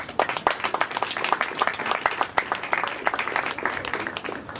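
A courtroom-style audience at a mock trial applauds, with dense, steady clapping spread across the whole stretch and a faint voice underneath.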